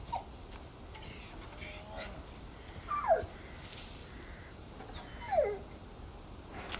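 A dog whimpers in Resident Evil 4 Remake, a few faint, drawn-out whines spaced a couple of seconds apart over a quiet, hissy game ambience.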